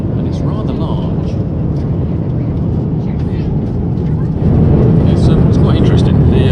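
A steady, loud airliner cabin roar in flight fills the space and gets noticeably louder partway through, with faint voices murmuring underneath.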